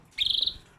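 A pet bird gives one short, high, trilling chirp up close, a single buzzy note lasting under half a second against a quiet room.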